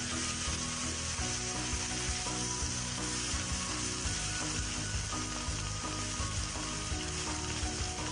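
Chopped onion, ginger and garlic fry in hot oil in a pan for an Assamese egg curry, a loud, steady sizzle with a spoon scraping and stirring throughout, close up.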